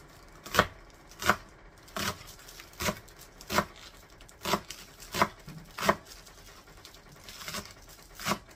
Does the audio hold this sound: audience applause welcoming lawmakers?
no